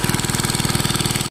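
An oil engine runs at a fish pond during fishing, with a loud, close, steady pulsing chug that cuts off abruptly at the end.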